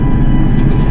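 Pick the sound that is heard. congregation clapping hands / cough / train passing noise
train passing noise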